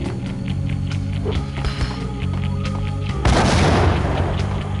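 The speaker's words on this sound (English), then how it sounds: "I just threw a grenade at it" A grenade going off in the Max Payne shooter game: scattered shots and clatter lead up to one loud, broad explosive blast near the end that rumbles briefly before fading.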